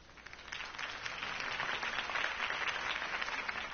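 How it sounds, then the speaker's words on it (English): Crowd applause in Batman: The Telltale Series swells and holds after a campaign speech, a dense wash of many hands clapping at moderate loudness, slightly muffled and distant. "could have heard that applause"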